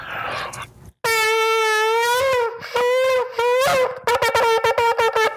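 A shofar ram's horn is blown close by: a few long, wavering blasts, then a rapid series of short, broken toots.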